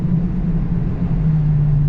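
A 2023 Dodge Challenger Scat Pack pulls away under light throttle beneath a small bridge, its exhaust a steady low, loud rumble heard from inside the car, with no sharp rise in pitch.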